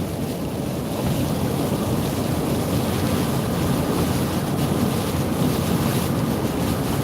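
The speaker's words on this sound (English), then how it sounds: "we're in the middle of a big band of rain" A dense, steady roar of heavy rain pours without letup, with low rumbling underneath and no voices.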